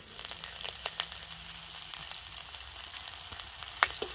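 Cumin seeds and grated ginger frying in hot oil, a soft steady sizzle with scattered faint pops and crackles, heard alone without talk.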